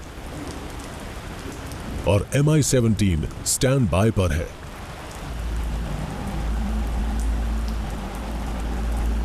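Rain falls steadily as a broad hiss at an Indian Air Force Mi-17 helicopter base, with someone speaking over the first half before the downpour continues alone.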